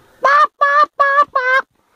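A voice imitates chickens clucking with four drawn-out, nasal squawks in an even rhythm, loud and close, with short gaps between them.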